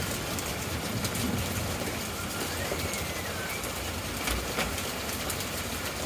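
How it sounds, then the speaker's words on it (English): Steady rain hisses and patters during a thunderstorm, a dense broadband wash with slightly louder gusts that sounds close by outdoors. "It's dropping some rain."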